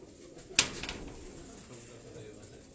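Pigeons on a Karachi rooftop give a brief, faint coo with a sharp flutter or click, while a voice talks quietly in the background.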